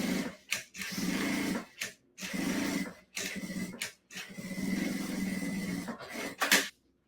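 A sewing machine stitches the lining to the synthetic main fabric of a bag in a series of bursts of steady whirring, separated by brief pauses.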